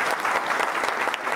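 A brief burst of audience applause, dense overlapping claps at a steady, moderately loud level for just over a second.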